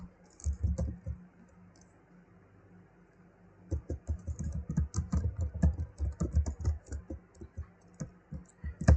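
Keystrokes on a computer keyboard as a Google search is typed: a short burst of clicks, a pause of about three seconds, then a longer run of quick, close, uneven taps.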